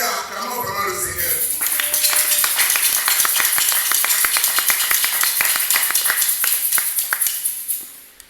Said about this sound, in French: acclamons vraiment le Seigneur